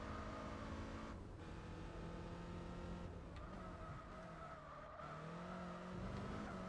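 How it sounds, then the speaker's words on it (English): A race car in Gran Turismo 4 braking during a Focus Cup race, its engine a continuous loud drone that dips and shifts pitch as it slows, with faint tyre squeal over the steady roar. "that one I think I braked a little bit too early for"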